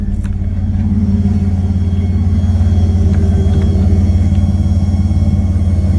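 A Dodge Dakota truck engine idles with a steady low rumble while the thin electric whine of an aftermarket Walbro fuel pump hums continuously on top, close and loud.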